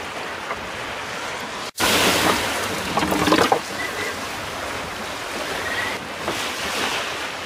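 Sea waves break around a small trailer sailer boat at sea near Hunter Island, with steady wash and wind noise, a sudden splash surging over the boat, then continued rushing water.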